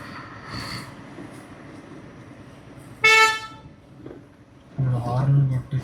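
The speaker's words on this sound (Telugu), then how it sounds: "హార్న్ కొట్టి సౌండ్ చేస్తారు అన్న." A vehicle horn gives one short, loud toot on a wildlife road toward Bandipur where an elephant family is nearby, with people talking before and after it.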